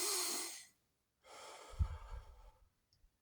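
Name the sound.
meditative breathing, in through nose, out through mouth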